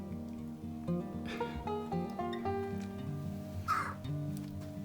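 A jackdaw trapped behind an old chimney breast in an old fireplace gives a couple of muffled caws, set amid a dense, cluttered indoor background with steady humming tones.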